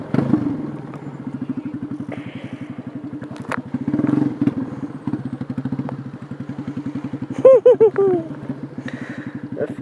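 A Yamaha Fazer 250 motorcycle carrying a passenger, its single engine throbbing in a steady rapid pulse close up as it rides along, with a brief voice sounding near the end.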